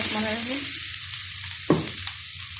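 Potatoes, carrots and beans frying in a pan with fenugreek, nigella seeds and bay leaf, giving a steady close sizzle broken by a sharp stirring scrape partway through and a few lighter clinks afterward, with no voices.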